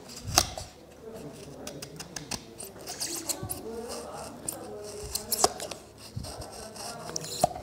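A knife shaves cork from the grip of a penhold table tennis racket, producing faint scraping and rasping strokes with small clicks, irregular and close, with no talk over it.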